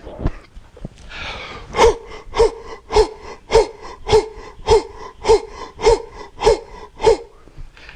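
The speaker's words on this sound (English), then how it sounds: "And you may sound a little wheezy occasionally, and that can help clear things out." Heavy breathing exercise with wheezy breaths: about ten strong, rhythmic puffs of air, evenly spaced and close, each with a slight wheeze, following a longer drawn-in breath.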